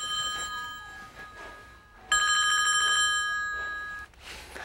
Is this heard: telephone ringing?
yes